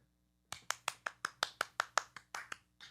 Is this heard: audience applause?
yes